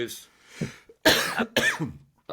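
A man coughs a few times in short bursts amid brief bits of speech, close and fairly loud.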